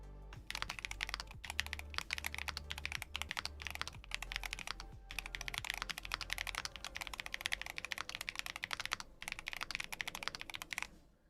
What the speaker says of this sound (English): It's not like a obnoxious clacky sound. But it also is not my favorite keyboard to type on.